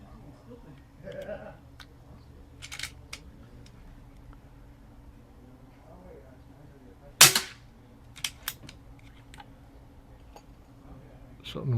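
Umarex Zelos .25 air rifle fired with a moderator, a single sharp crack standing out against a quiet background, followed by a few faint clicks and some soft handling noise.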